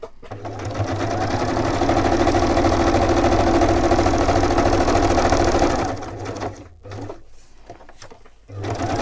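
A sewing machine stitches in a fast, steady mechanical whir for about five seconds, then stops and starts in short bursts with pauses between.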